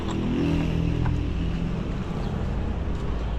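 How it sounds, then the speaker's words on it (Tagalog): A Honda Wave 100 motorcycle, left unused for months, has its engine turning over and running with a low, rough rumble, steady and fairly close, with some wind noise. "para mapaandar ko lang yung motor ko na wave"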